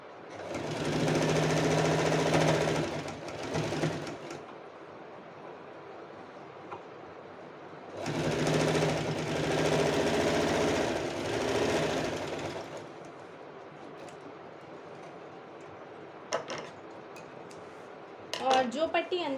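A sewing machine stitches along a folded fabric strip while making a blouse, running in two loud sustained bursts separated by quieter pauses, with light handling clicks near the end.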